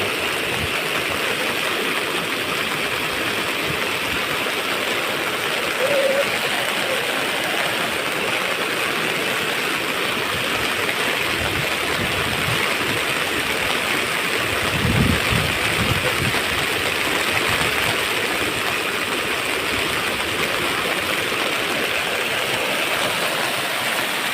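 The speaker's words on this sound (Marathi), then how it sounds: "पाणी वगैरे किती जोरात जातो" Rainwater rushes hard during a heavy Konkan monsoon downpour, a dense, even roar of flowing water that holds steady and unbroken over a long stretch, with a few low thumps mixed in.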